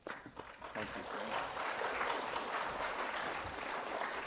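A school audience applauds students at a library and museum distance learning event, a steady, dense clapping that swells quickly and holds loud for several seconds, with some voices mixed in.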